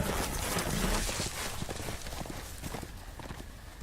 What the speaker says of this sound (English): The fucking horse ran off.